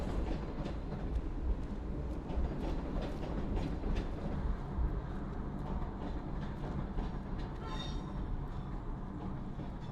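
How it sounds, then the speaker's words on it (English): Steady rumble and clatter of a train rolling past in a video game, continuous and close for the whole stretch, with faint clicks of wheels on track and no voices. "Oh, it's a train."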